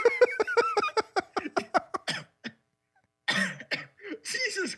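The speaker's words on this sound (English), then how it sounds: "my smoker's cough is coming out" A man's smoker's cough bursts out in a rapid run of about a dozen harsh, close hacks tangled with laughter, then a brief pause before more wheezy laughing coughs.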